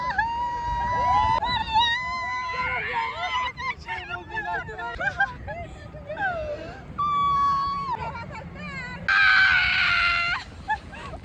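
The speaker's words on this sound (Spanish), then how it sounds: "No sé por qué gritaba tanto, la verdad, pero estaba extasiada de felicidad." A woman on an amusement park ride at Fantasilandia in Chile screams repeatedly in long, high, wavering shrieks, with bursts of excited wailing and rushing ride noise between them, loud and close.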